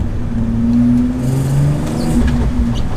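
Loud, steady engine drone and road rumble inside a VW Golf R32 track car on a cold day, with the engine holding a constant pull and slight rises in revs throughout.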